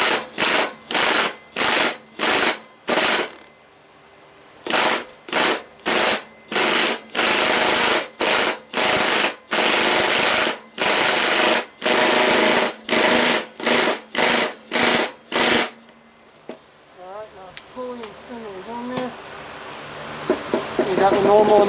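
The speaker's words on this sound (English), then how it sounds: "But this is a 1/2 inch impact." A 1/2 inch impact wrench hammers at a deck spindle on a Craftsman LT1000 42-inch riding mower, loud and close in about twenty short rattling bursts with brief gaps, then stops and a quieter whirring follows.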